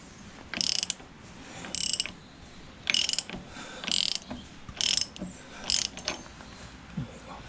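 A socket ratchet turns a bolt on a David Brown 996 tractor hydraulic pump, giving about seven bursts of close, crisp clicking strokes at an uneven rhythm, separated by short pauses, with no one talking.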